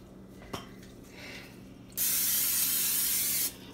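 A steady hissing burst of cooking spray, about a second and a half long, hits a pan heated between medium-high and high, after faint clicks and handling noises.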